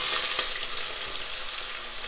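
Chopped onions frying in hot oil in a pan for chicken curry, a steady loud sizzle with crackle throughout, close up and without speech.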